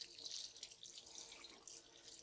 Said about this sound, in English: get a little bit of water